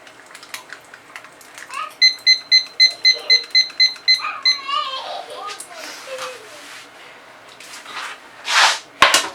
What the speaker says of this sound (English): So we're going to set the timer.